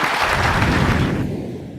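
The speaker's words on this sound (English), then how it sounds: "How about a round of applause for our panel?" An audience at the Ignite Buffalo live podcast event claps for the panel, a thick burst of applause that fades and thins out toward the end.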